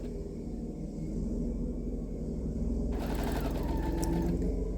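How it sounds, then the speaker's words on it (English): A sewing machine stitches through two layers of fabric for a decorative house-shaped pillow, running steadily with a close, even mechanical hum and rapid needle rhythm that grows slightly louder partway through. "you're sewing through both layers of fabric"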